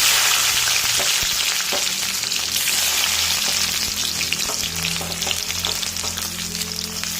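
Chopped garlic and ginger sizzle steadily in hot oil with popped mustard seeds for a Malayalam-style loobikka pickle, a continuous close frying hiss with occasional stirring scrapes and no talking.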